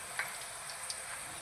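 A poori frying in hot oil gives a steady, even sizzle with a few faint pops and crackles, close and continuous across the short stretch.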